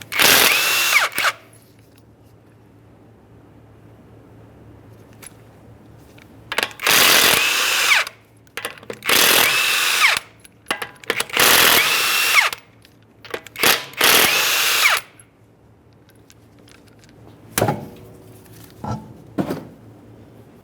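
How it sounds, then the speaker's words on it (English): A power tool spins off 21mm lug nuts from a 2009-2014 Nissan Maxima wheel in five loud, separate bursts of whirring and rattling, each followed by quiet pauses, close up with no talk. "we're going to remove all 5 of our 21mm lug nuts and we can get the wheel off of here."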